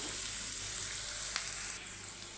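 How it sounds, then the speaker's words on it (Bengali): A steady hiss of spice paste frying in a pan, with an occasional soft scrape of stirring and no voices. "আমি একটু ভেজে নিচ্ছি"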